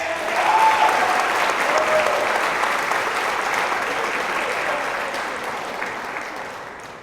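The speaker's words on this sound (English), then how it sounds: "Can we also get an extra round of applause for Josh, our senior this year" An audience claps steadily for a senior tennis player at a college athletics awards night, a sustained, fairly close round of applause that fades slightly toward the end.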